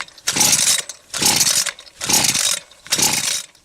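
A weedwhacker engine on half choke revs in four strong bursts, each lasting just under a second and separated by short near-silent gaps, loud and close with a rough, buzzy roar.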